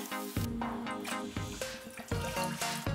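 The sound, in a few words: filling a pot of bones with cold water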